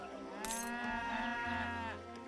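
Cattle lowing in the strategy game Age of Empires 3, a single long drawn-out moo with a rising and falling tone, clear and steady over a soft game backdrop.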